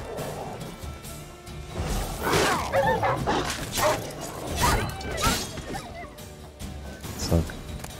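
In the video game The Witcher 3, dogs bark and snarl in repeated bursts during a fight, mixed with crashing impacts and what may be a horse's whinny, loud and busy for about eight seconds.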